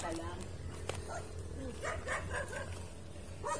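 Outdoors among big rocks with a mountain view, a dog gives a few short barks mixed into ongoing talk from several people.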